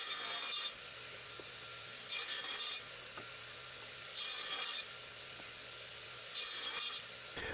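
Aromatic cedar wood being hand-sawn lengthwise, with four evenly spaced rasping strokes of the saw separated by quieter pauses, close and clear.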